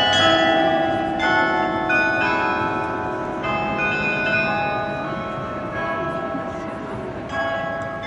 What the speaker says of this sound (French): C'est un carillon de 56 cloches qui permet d'être joué comme sur un clavier de piano par un carillonneur